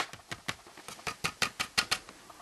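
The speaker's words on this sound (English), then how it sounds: "this is a fairly quiet keyboard, but underneath there's the base is rattling all the time" A fairly quiet keyboard with a poorly designed, loosely fitted base is typed on in a steady run of about a dozen close keystrokes. Each keystroke lands as a crisp tap with a faint rattle underneath, and no one talks.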